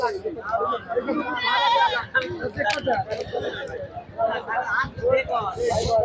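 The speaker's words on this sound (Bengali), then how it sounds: "কত ছাগল" Several goats bleat repeatedly, near and far, amid a busy goat market crowd with people talking in the background.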